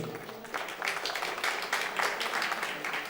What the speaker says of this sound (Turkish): kocaman bir alkış rica ediyorum